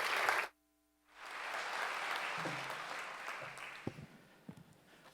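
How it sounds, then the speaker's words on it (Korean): Warm applause from the audience at a Handong Global University presidential inauguration ceremony, beginning after a brief silence, swelling into steady clapping, then thinning out with a few scattered claps. "우리 뜨거운 박수로 환영해 주시기 바랍니다."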